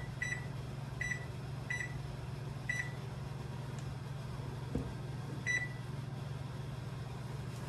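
An oven is set for 20 minutes with a series of short, crisp beeps, five or six evenly spaced electronic tones over a steady low appliance hum, close and fairly quiet, with no talking.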